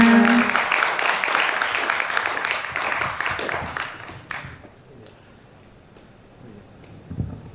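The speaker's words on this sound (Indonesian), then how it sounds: "Ya, tepuk tangannya." An audience at a diversity festival opening applauds a speaker being invited up, a fairly loud burst of clapping that fades out after about four seconds, leaving quiet room noise and a brief thump near the end.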